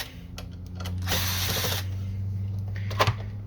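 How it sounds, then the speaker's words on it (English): A Phillips screwdriver, apparently powered, whirring briefly as it removes screws to free the print head from an Epson WF-2630 printer, with ticks and clicks from the parts around it under a steady motor hum, close up. "Then we're going to use a Phillips head screwdriver to remove the print head"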